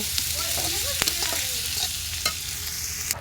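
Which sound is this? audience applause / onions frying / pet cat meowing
onions frying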